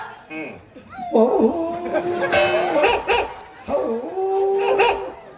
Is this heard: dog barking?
yes